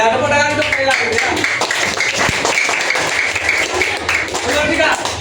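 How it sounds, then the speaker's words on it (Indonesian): A classroom of students claps for a classmate after she answers a teacher's question, a brief burst of scattered hand claps mixed with children's voices and chatter. "tepuk tangan untuk Kayla"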